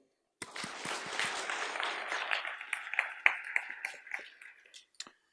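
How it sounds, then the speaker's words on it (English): Scattered clapping from a modest conference audience welcomes a speaker to a Java compiler talk, starting abruptly, thinning out to a few separate claps and ending within about five seconds. "Give him an applause."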